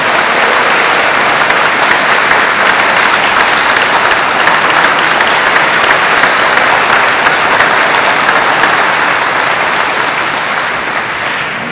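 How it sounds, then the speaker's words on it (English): A room full of people at an Atlanta City Council recognition breaks into steady, dense applause that stays loud and even for the whole stretch, tapering only slightly at the end, with no talking over it. "Would you all please give her another round of applause?"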